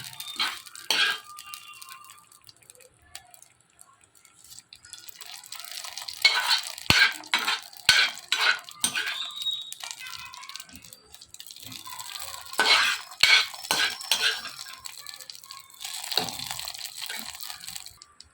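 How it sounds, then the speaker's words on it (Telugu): Sizzling tempering is stirred into peanut chutney, with scraping and stirring in short bursts that rise and fall, close and moderately loud, and no talk. "చూడండి ఫ్రెండ్స్ తాలింపు మొత్తం ఇలా చట్నీలు వేసేసుకోవాలి"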